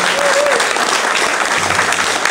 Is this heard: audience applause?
yes